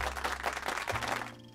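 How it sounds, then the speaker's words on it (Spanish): A short burst of canned, pre-recorded applause plays as a dense patter of many hands that cuts off abruptly. "Un aplauso pregrabado"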